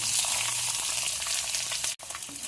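Mustard seeds, chana dal, dry red chilli, curry leaves, onions and green chilli pieces frying in hot oil, a steady loud sizzle running throughout with a brief dip near the end.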